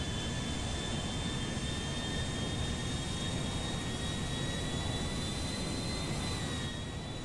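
A modded, very fast plane in GTA 5 flies with a steady, dense jet roar that holds at a constant level throughout, with a thin high whine riding on top.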